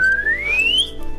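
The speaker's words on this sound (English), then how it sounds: "That thing, that sort of the little penny whistle or whatever they call it" A little penny whistle plays one clear note that slides steadily upward in pitch for almost a second, then stops, leaving a low background hum.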